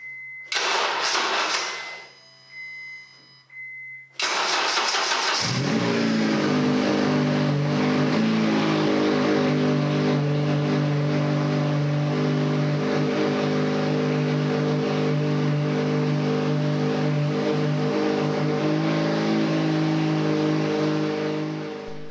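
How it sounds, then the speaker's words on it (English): A 200,000 km Honda engine, just fitted with a new timing chain, cranks briefly, pauses, then starts and settles into a steady, smooth idle that runs on evenly and close by. "Car started up really good."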